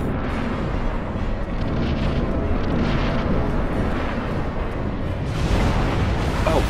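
The Iron Golem in the Dark Souls video game unleashes its axe shockwave attack, a loud, sustained rumbling blast that roars on without a break, with a fresh swell of force near the end.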